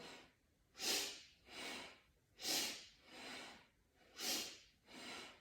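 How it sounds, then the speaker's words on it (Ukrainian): Deep, forceful breaths during a morning breathing exercise, six alternating inhales and exhales in a slow, even rhythm, close and clear with no talk. "Глибокі, потужні вдихи і видихи."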